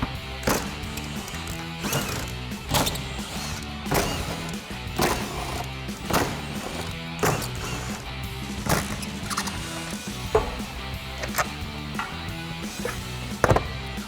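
An impact wrench backing out 13mm bolts on a Ford Bronco rear tire carrier, with repeated sharp bursts of rattling hammering spaced a second or so apart, interspersed with clanks of metal parts being handled nearby.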